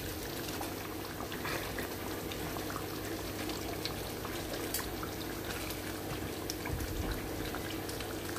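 Gizzard stew with vegetables and freshly added stock bubbles in the pot while it is stirred, a steady close liquid burble and simmer with soft sloshing and occasional light knocks, no voices.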